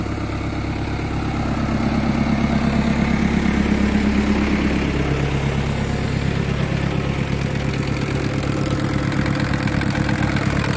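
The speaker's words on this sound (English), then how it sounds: "Spraying it with the tractor and the hose reel." A heavy diesel tractor engine runs loud and close while spraying gorse with a hose reel, a steady throbbing drone that picks up slightly after a couple of seconds and keeps rumbling evenly.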